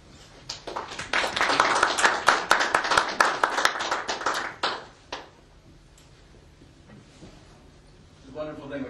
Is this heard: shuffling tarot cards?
no